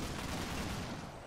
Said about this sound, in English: that looks like it might be area fire on the top floor from this BTR in here